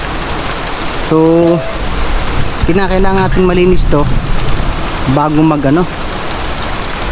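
Rain falls steadily beside a house where bitter gourd vines have collapsed and the ground has turned muddy. The constant wash of rain carries on beneath someone talking.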